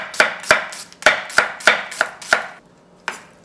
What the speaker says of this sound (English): Cut this. Bite-sized pieces. This is the onion